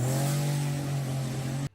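Buick Grand National engine revving hard, a loud sustained droning roar held near high rpm that cuts off abruptly at the end.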